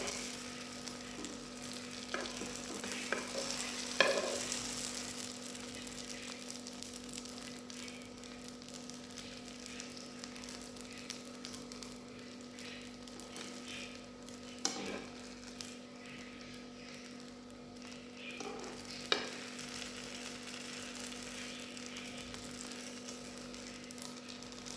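Bourek filling frying in oil, a low steady sizzle with a few brief clinks and stirring scrapes over a faint electrical hum, close but quiet.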